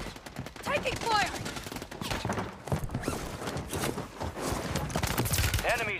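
Dense gunfire from the video game Warzone 3, a continuous rattling fusillade of rapid shots that stays loud and close throughout, with some voice chatter mixed in.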